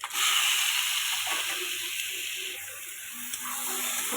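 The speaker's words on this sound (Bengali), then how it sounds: "চলো এত সুন্দরভাবে মাংসটা কষাতে থাকি অনেকক্ষণ ধরে কষাতে হবে" Chicken pieces sizzle steadily in a pan with cooked-down spices and fried potatoes, a loud continuous frying hiss with faint stirring scrapes and no talking.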